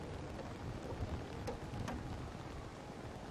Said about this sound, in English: the rain has just been coming down here for the past 5 minutes now